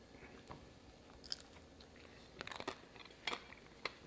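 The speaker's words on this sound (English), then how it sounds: "I'm just going to take a bite of this" A crunchy plant-based vegan taquito, baked with a little olive oil rather than deep fried, is bitten and chewed close up, giving a few sharp crunches amid quiet, faint mouth sounds.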